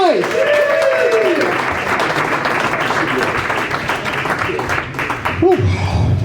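Comedy club audience applauds and cheers as a comedian is called to the stage, a dense, loud wash of clapping and whoops throughout with a few shouted voices.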